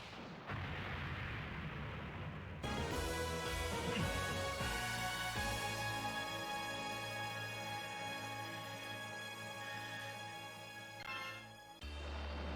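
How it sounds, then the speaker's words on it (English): Bomb blast hitting the boss in the arcade shoot-'em-up Daioujou, Arrange EX mode: a loud, dense burst of booming explosions over layered game music, sustained for about nine seconds before cutting off. "wait for them to close, and then just bomb the boss"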